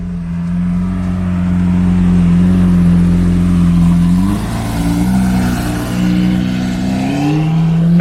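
A Lamborghini drives off along a street in Cannes, its engine holding a loud, close, steady drone that rises in pitch as it accelerates away.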